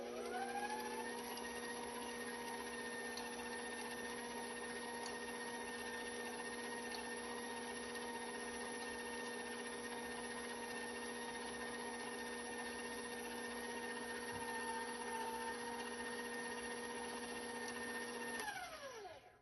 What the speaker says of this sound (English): I'm going to mix this a little longer to mix in the unmixed ingredients.